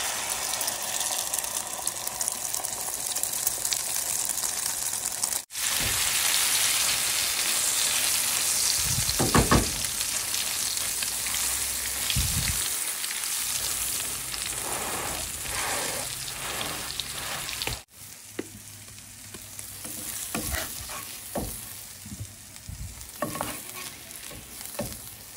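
Eggs hit hot oil in a pan and set off a loud, steady crackling sizzle that continues throughout, with brief clinks and stirring noises mixed in.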